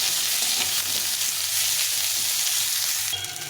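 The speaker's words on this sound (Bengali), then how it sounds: "উচ্ছে আলুটাকে একটু লাল লাল করে ভেজে নিতে হবে।" Strips of bitter gourd and long-cut potato fry in hot oil for a vegetarian curry, giving a loud, continuous hissing sizzle that is heard alone.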